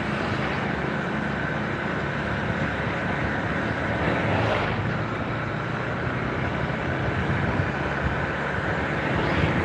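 Steady running of a rebuilt Honda CBR motorcycle engine while riding, a smooth continuous drone holding an even level throughout, close up with a faint swell near the middle and no voices.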